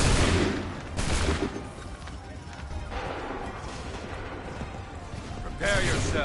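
Musket volleys in Assassin's Creed III Remastered: sharp, loud crackling bursts of massed gunfire, one at the start, another about a second later and a final one near the end, with battlefield noise and shouting voices between them.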